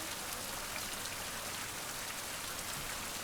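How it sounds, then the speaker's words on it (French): Steady rain in the Sailaway sailing video game on a grey sea at around 11 to 13 knots, a faint even hiss of falling drops with no pauses or voices. "il pleut"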